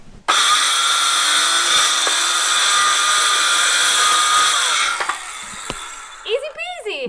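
A power tool cuts through material during a vintage RV overhead cab rebuild, a loud steady whine that runs for several seconds, then winds down as voices speak near the end.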